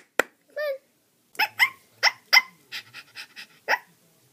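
A dog barks in a series of sharp, fairly close barks, starting with a single yelp and whine, then quick bursts in an uneven rhythm, with no talking.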